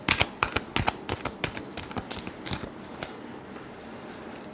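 Tarot cards riffled and shuffled close by in a quick run of crisp flutters and taps that thins out and fades toward the end, with no voices.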